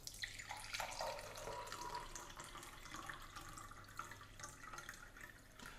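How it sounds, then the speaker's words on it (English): Water poured from a jug into a glass, a soft continuous trickling stream running for several seconds, close but faint, with no voices. "we've got a jug of water now, and we're going to fill up the glass."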